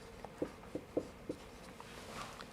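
Marker or chalk strokes on a classroom board tap and scrape in four distinct bursts at an uneven pace, close and clear, with no talking over them.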